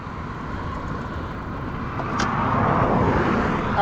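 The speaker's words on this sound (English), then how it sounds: "You could hear it roaring, right? All the traffic is just down at the bottom of this hill." Steady roar of traffic rising from a highway at the foot of a hill near an East Texas town, a continuous distant wash of engine and tire noise that swells louder partway through, with no voices.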